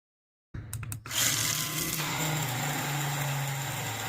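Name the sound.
blender mixing turmeric, sugar and water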